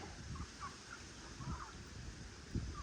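Faint poultry calls on a small rural Thai farm that raises cattle, fish and chickens: a few short, scattered clucks and squawks at a distance, spaced irregularly over a soft outdoor background with no talk.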